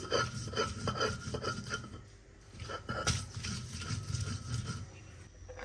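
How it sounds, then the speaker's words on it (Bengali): Onion, garlic and ginger are ground by hand on a flat stone pata, making rhythmic rasping, scraping strokes that repeat steadily and close up, with no talking. "পেঁয়াজ রসুন আদা সব পাটাই বেটে নিচ্ছি"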